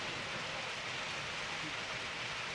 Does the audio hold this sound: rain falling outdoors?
yes